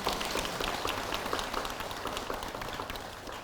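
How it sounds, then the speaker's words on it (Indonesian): Steady crowd applause, dense clapping that continues throughout and gradually fades a little toward the end. "Tepuk tangan dulu buat kita semua."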